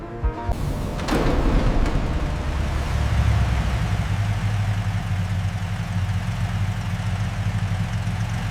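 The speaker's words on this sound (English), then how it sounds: "This 1978 model, lovingly restored, idles with the deep rumble only a true classic can produce." A restored 1978 Toyota Land Cruiser FJ45 pickup engine idles with a steady, deep low rumble after a brief start-up surge, running evenly and close by with no talk.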